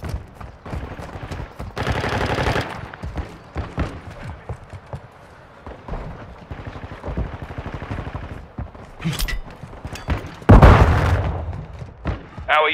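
Scattered gunshot bursts crack intermittently in a hardcore Call of Duty Modern Warfare II multiplayer match, with quieter stretches between them, a sharp loud burst near the end and occasional radio-style voice callouts.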